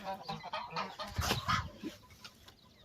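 Geese honking and cackling nearby, a cluster of overlapping calls rising to a louder burst in the middle, then tapering off.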